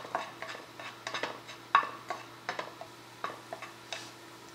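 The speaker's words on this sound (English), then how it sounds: "Keep stirring it so that it doesn't get burnt" Food being stirred in a little butter in a pan for Kerala mutton biriyani, a steady run of soft scraping and tapping strokes of a spoon against the pan, close and moderately quiet, with no talking.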